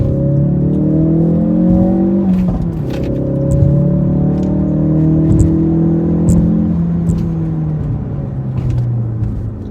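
A 2017 Ford Focus RS engine pulls hard from inside the cabin, its harmonic whine climbing through rising sweeps, dropping at gear changes and climbing again, loud and close with light rattles and clicks over the top.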